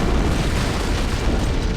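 A heavy antimatter charge explosion rips through a spaceship in Halo: Combat Evolved, a loud, sustained boom with rumbling low end that fills the whole moment without a break.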